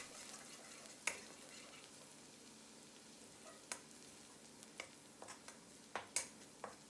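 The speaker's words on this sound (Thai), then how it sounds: "กระเทียมสับ1ช้อนโต๊ะผัดกระเทียมน้อยสุกเหลืองหอมเลยครับ" One tablespoon of minced garlic stir-frying in oil in a pan for pork belly with chili flakes, giving a soft, steady sizzle punctuated by scattered sharp taps of a utensil against the pan, quiet and close, without speech.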